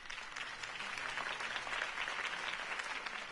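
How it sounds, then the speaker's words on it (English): Steady crowd applause from an election rally audience cheering Harvey Dent's campaign speech in the Batman Telltale game, a dense even wash of many hands clapping at moderate volume throughout, with no talking over it. "If only Mr. Wayne, my campaign's largest backer, could have heard that applause"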